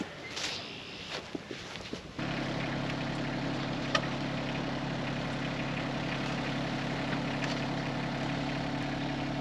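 A tractor engine pushing at a collapsing driveway, starting with some clatter and movement before settling into a steady, droning rumble that holds evenly close by.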